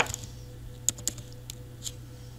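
Several sparse, quiet key taps on a computer keyboard while an Excel formula is entered, a handful of separate clicks over a low background hum.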